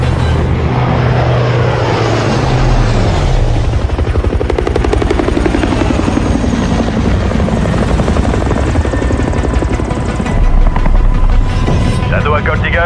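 Aircraft engines starting up and taxiing in an action film scene, a loud rotor-like drone with a rising, spooling whine early on that settles into a steady roar, with voices underneath.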